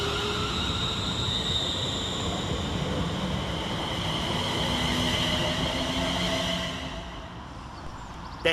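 ScotRail train 38111 pulls out of Motherwell station, its steady rumble and rail hiss holding strong before easing off near the end, with no talk over it.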